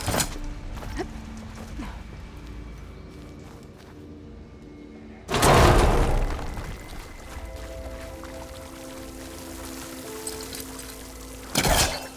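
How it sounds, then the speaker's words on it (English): Water gushes from a vent in Horizon Forbidden West in a loud pouring rush lasting about a second, followed by a steady trickle, with a second short burst near the end over soft game ambience. "Water's coming from that vent."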